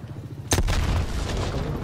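A frag grenade goes off in Call of Duty Cold War, one sharp, close boom after a brief quiet, followed by a rumbling tail of low debris noise.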